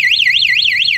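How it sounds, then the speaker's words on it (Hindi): A keyless anti-theft alarm fitted to a Royal Enfield Hunter 350 motorcycle wails in a loud, close electronic siren that sweeps rapidly up and down in pitch for about a second. "ये जो स्विच है अलार्म का ये दे रखा है। अगर मैं इसको प्रेस करूँ तो आप देखो आवाज़ कैसा होगा"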